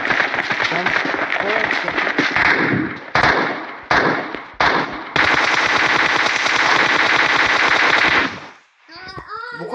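Automatic weapon fire from PUBG Mobile rattles loud and sustained in long bursts with brief gaps, cutting off near the end, while a player talks over it.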